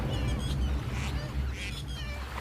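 A bird calls in a few short honking, duck-like bursts over a steady low background in a Hindi story narration.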